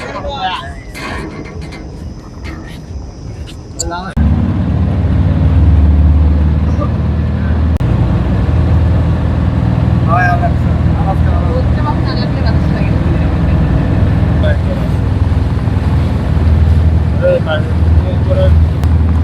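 A trawler boat heads out to the MV Sher Khan 2.0 cruise ship in the Sundarbans. After a few seconds of quieter noise, its engine starts a loud, steady low drone that continues to the end, with voices mixed in.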